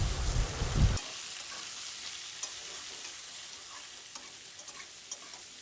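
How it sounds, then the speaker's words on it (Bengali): Potatoes and green chillies fry in a pan with a loud burst of sizzling at first, then settle into a quieter, steady crackle with occasional small pops. "আলু আর কাঁচা লঙ্কাটাকে লাল দিয়ে দেবো, এর মধ্যে লাল লাল করে হালকা ভেজে নেব"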